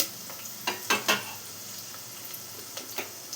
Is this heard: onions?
yes